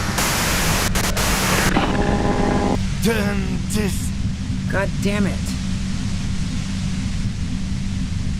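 Loud continuous radio static hiss from the video game Disco Elysium, full and steady throughout, with brief tuning squeals and warbling tones early on and a man muttering over it.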